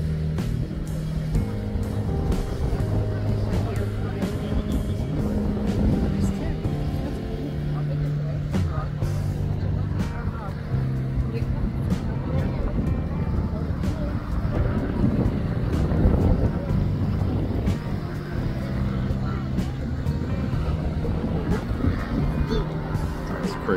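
A small plane on a small airport runway, with a steady engine drone and wind rumble that build slightly, while a person talks throughout.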